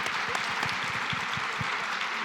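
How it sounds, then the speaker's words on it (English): Moderate, steady applause from the audience at a decarbonization summit, a continuous patter of clapping with occasional low thumps throughout. "Let's give them a round of applause"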